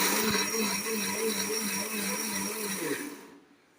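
A kitchen mixer grinder whirs loudly and steadily as it coarsely grinds paste for buttermilk curry (mor kuzhambu), a continuous motor drone with a wavering tone that winds down and cuts off near the end.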